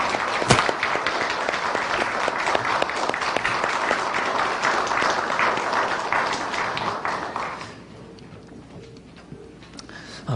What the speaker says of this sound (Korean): 우리 1년 동안 은혜로운 찬양을 해주신 우리 성가대에게 우리 감사의 박수 하겠습니다.